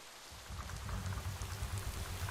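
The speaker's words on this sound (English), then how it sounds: "rain began to splash down onto the roof and windows" Rain splashes down onto a roof and windows in Psychedelica of the Black Butterfly, starting abruptly and settling into a steady, dense patter with a soft low rumble beneath, no voices present.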